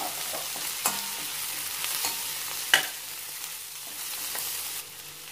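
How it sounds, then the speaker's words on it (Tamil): Dried fish and onions fry in a pan while being stirred, giving a continuous close sizzle broken by scraping stirs and a few sharp clicks of the utensil. "இப்போ நம்ம அந்த கருவாடையும் போட்டுடலாம் போட்டு நல்லா வதக்கலாம்"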